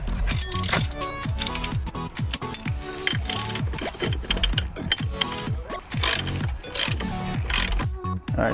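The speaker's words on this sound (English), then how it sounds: "let's tighten the bolt in first" A hand ratchet tightens the bolt on an NRG steering wheel quick release in a Nissan 350Z, a rapid run of close, sharp clicking strokes in repeated bursts with brief pauses, no talk.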